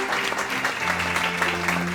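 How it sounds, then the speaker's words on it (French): Audience applause at a formal ceremony or speech event, a steady dense wash of clapping from a crowd that holds at an even level throughout with no break. "Applaudissez s'il vous plaît."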